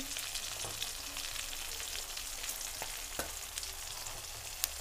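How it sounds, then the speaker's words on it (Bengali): Fish fat sizzles steadily in hot oil in a pan with five-spice tempering, a constant crackling hiss sprinkled with small pops, and no one speaking. "আমি তেলপোটাটা এবার ভেজে নেব। এই তেলপোটার উপরে 5 ফোড়ন দিয়ে দিচ্ছি।"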